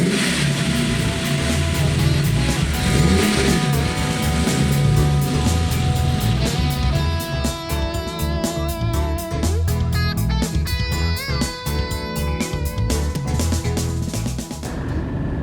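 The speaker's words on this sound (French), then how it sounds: "La Lamborghini Countach est un des trucs les plus indomptables que j'ai eu à conduire." Lamborghini Countach 5000 QV from 1988 driving on the road, its engine a loud, continuous rumble with harmonic tones that stays steady throughout, thick low-end drone and no pauses, heard on its own without talk.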